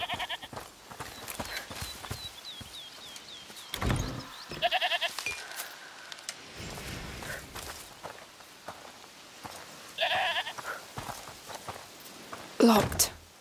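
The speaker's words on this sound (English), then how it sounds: "Is that the goat he talked about?" A goat bleats several times from inside a house in the video game A Plague Tale: Requiem, short nasal cries among footsteps and rustling, with quiet game voices now and then.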